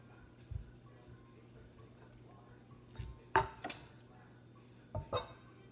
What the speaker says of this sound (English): I'm going to mix it up just a little bit to see where we're at